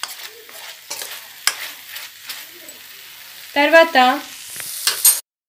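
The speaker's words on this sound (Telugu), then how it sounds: "ఆనియన్స్ టమాటోస్ వేసుకున్న తర్వాత అల్లం వెల్లుల్లి పేస్ట్ వేసుకుంటే మనకు కాస్త అతుక్కోకుండా బాగా వేగుతుంది" Onions, tomatoes and ginger-garlic paste fry in a pan for cauliflower egg kurma, giving a soft, close sizzle with clinks and scrapes of stirring, while a voice speaks briefly near the end.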